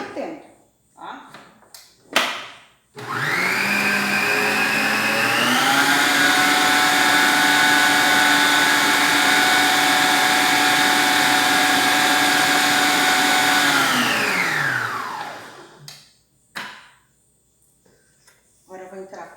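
A blender whirs through gluten-free palm heart esfiha dough, starting with a sharp rise, its motor pitch shifting slightly as the dough thickens, running steadily for about twelve seconds before winding down, with clattering and handling noises before and after.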